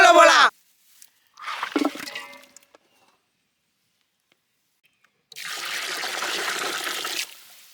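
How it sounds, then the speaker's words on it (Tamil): Chicken pieces are rinsed in water in an outdoor village kitchen, with brief splashing and sloshing bursts separated by pauses, then a longer steady pour of running water, close up. "இப்போ நம்ம வந்து கறியை அலசிக்கலாம்."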